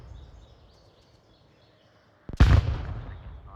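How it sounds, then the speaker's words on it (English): A grenade blast detonates in the VR shooter Onward during a competitive match, a sudden loud burst after a quiet stretch, trailing into a rumbling, fading tail. "Some utilities and frags into the smoke just to prevent anybody from capping."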